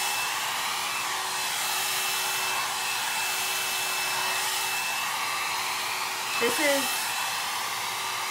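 A Lange Le Volume hot brush dries hair with a steady, loud fan whoosh that holds throughout, close up, with a brief shift in tone near the end as a voice speaks a couple of words.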